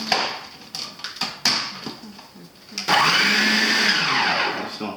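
A Hamilton Beach Big Mouth Deluxe 14-cup food processor starting in short stop-start bursts with clicks and knocks, then its motor whirring loudly and steadily for two seconds, near and alone.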